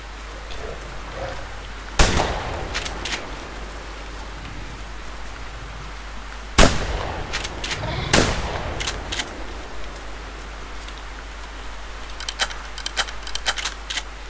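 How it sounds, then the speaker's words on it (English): Shotgun blasts from a hunting game, theHunter Primal, come as three loud, spaced booms over a soft, rain-like background hiss, followed by faint small clicks and ticks. "That's two of them dead with the shotgun."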